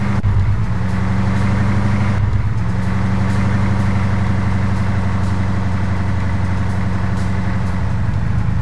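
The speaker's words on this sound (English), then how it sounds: "I'm just driving around a bit here." Steady engine drone of a vehicle driving in the military game Arma 3, loud and continuous with a low rumbling hum and a brief shift partway through, no voices.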